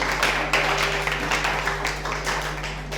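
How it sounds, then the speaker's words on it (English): Audience in a debating hall clapping to welcome an arriving guest, a steady wash of hand claps over a constant low electrical hum, moderately loud throughout. "can you clap your hands if you can for the person who is coming?"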